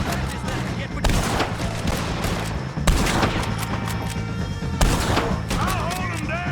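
Dense gunfire crackles through a shootout against O'Driscoll gang members in Red Dead Redemption 2, with sharp bursts at a steady, chaotic pace and shouted voices mixed in under the shots.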